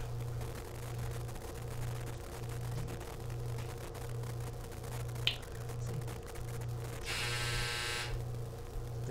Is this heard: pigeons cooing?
no